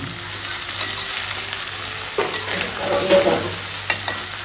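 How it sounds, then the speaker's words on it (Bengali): Snake gourd fries in a pan with a steady, even sizzle while a utensil scrapes and stirs in a few short bursts near the end. The sound is close and moderately loud, and no one talks. "এখানে মা বানাচ্ছে চিচিঙ্গা ভাজা"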